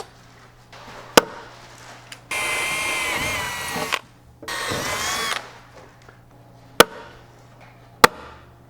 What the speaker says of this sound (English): we'll go ahead and drill our second hole